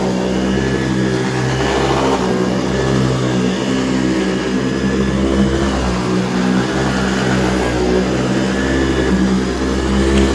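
An AirVac AV3500 central vacuum, about 23 years old, drives a power brush with its brush bar spinning, giving a loud, steady motor whine and hum that holds constant for the whole stretch, with no voices.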